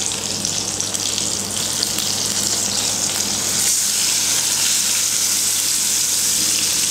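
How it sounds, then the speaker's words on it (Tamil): Tandoori chicken pieces frying in hot oil in a pan on a gas stove give a loud, continuous close-up sizzle that swells slightly midway, with no talking. "எண்ணெய் வந்து நல்லா சூடேறினதுக்கப்புறமா நம்ம எடுத்து வச்சுருக்கிற சிக்கனை இப்போ நம்ம வச்சிடலாம்"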